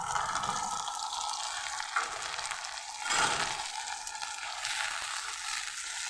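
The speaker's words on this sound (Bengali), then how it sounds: "এখন আমি টমেটো, আদা, কাঁচা লঙ্কা পেস্ট করেছিলাম" Paste of tomato, ginger and green chili sizzles steadily in hot oil for Bengali fish curry, a loud, even frying hiss with a brief stirring scrape near the middle.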